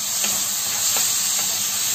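Beef liver fries in a hot pan with marinade just added, giving a loud, dense, continuous hiss and sizzle with faint stirring scrapes, close up and without voices.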